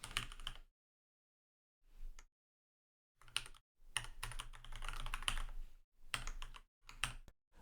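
Someone types a web address on a computer keyboard, producing close, fast clusters of key clicks separated by short silent pauses.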